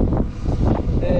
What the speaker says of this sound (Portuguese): olha só a ventania que tá